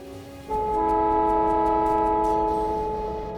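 A train arrives in Factorio, sounding a loud, sustained chord-like horn that starts suddenly and holds steady for about three seconds before slowly fading, over a low rumbling bed.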